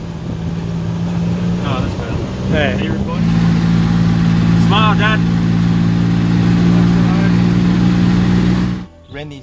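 A tuk tuk engine in Chiang Mai, Thailand, drones steadily while revving in third gear, a continuous mid-pitched hum with a slight step up partway through, running under casual conversation until it cuts off near the end.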